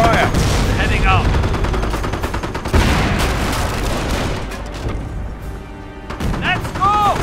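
Gunfire at a base under attack in the Company of Heroes: Tales of Valor Falaise Pocket battle: dense machine-gun bursts and rifle shots with heavy booms, loud and continuous, with shouted voices in between.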